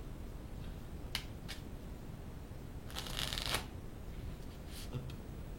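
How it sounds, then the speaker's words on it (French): A deck of Bicycle Prestige playing cards is shuffled by hand, with a few quick crisp riffles and brief flutters, faint and close in a quiet room. "Nous allons mélanger le jeu."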